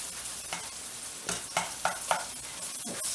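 Hamburger meat sautéing in a pan, a continuous sizzle broken by several clanking stir strokes near the mic, no speech.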